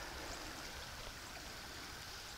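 A river partly edged with ice flows along a winter trail at freezing temperatures, giving a faint, steady wash of running water with no voices.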